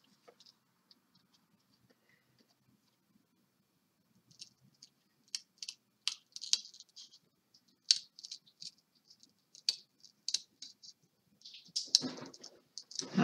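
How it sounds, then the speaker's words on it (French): Small craft scissors cut paper for a scrapbooking card with crisp snips, sparse at first and then a quicker run of close clicks. No one speaks. "pour découper des petites choses pour être bien droite, je préfère utiliser ce genre de petits ciseaux"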